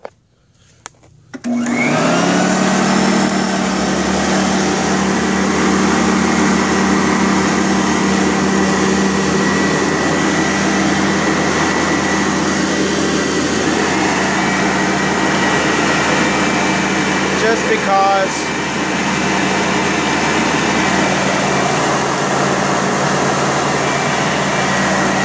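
A Sanitaire, Eureka or Hoover upright vacuum cleaner with a metal motor switching on and running, a loud steady high-pitched whine that holds nearly unchanged for about twenty seconds, with brief faint talk underneath.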